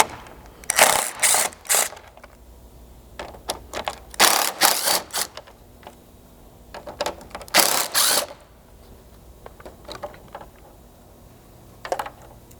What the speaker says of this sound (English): grab a T30 Torx and pull the 3 mounting screws holding this cover plate in